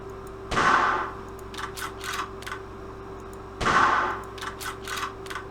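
Two sharp, loud reports from a bolt-action rifle such as a Mauser, Karabiner 31 or Mosin-Nagant, about three seconds apart, each followed by a decaying tail and quick metallic clicks of the bolt being worked straight back and forward.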